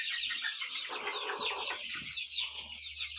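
Chicks peep in a busy high-pitched chorus on a small home farm while a hen clucks lower underneath, continuous and fairly close over a faint low hum.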